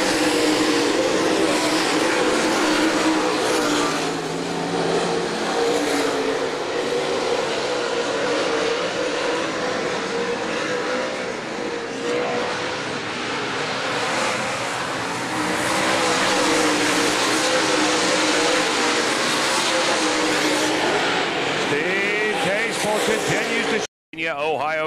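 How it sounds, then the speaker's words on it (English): Super late model race cars roar around the Florence Speedway oval during a fall 50-lap event, a dense, continuous engine drone with cars passing close, while an announcer calls the race over it. "Coming off turn number two as Breeding works his way by on the low side"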